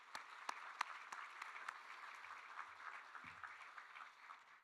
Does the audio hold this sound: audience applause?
yes